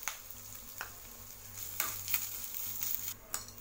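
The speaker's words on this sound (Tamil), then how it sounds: "பூண்டு சேர்த்து லேசாக வதக்கி விட்டுருங்க." Garlic and grated coconut sautéing in a pan make a low, gentle sizzle, broken by a few sharp stirring scrapes and clicks at irregular intervals.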